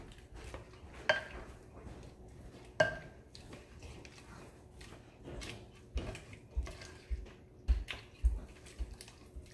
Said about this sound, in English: I'm going to stir all that in.